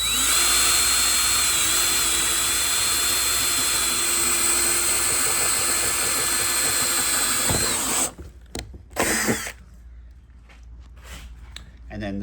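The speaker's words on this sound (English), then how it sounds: "So let's take it over and drill these out." A power drill whines steadily at high speed for several seconds, drilling holes in a Sea-Doo GTX for a cup holder, loud and close, then cuts off, leaving a few scattered knocks and handling noises.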